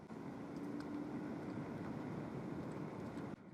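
Steady, even rush of wind and road noise from a quiet ride on a Varla Eagle One electric scooter, with no engine sound and no talking, cutting off abruptly near the end.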